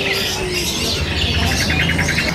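Caged birds chirp and tweet at a bird seller's kiosk, a steady mix of calls with a run of quick repeated high chirps toward the end, set against a busy, noisy background.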